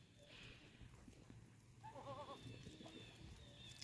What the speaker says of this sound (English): He's a Nubian goat.